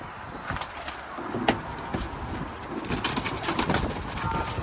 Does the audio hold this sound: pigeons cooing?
yes